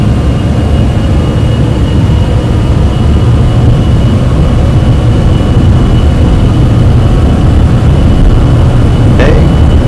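A Citation X business jet in the flight simulator MSFS takes off at full throttle, giving a constant loud low roar of engine and rolling noise that stays steady throughout, with no voices.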